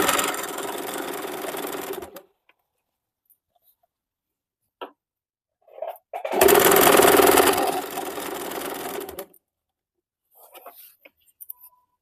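Sewing machine stitching a picot edge on fabric, running close and steady in two bursts separated by a silent pause, with brief handling noises in between.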